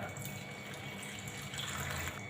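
Water is poured from a tap into a container to mix a salt cleaning solution for a bathroom, a faint, steady splashing rush that carries on without interruption.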